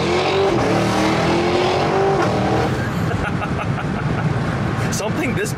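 A Cadillac Escalade-V's big engine roars through its quad exhaust as it accelerates hard, loud and close, while a voice talks over the engine noise.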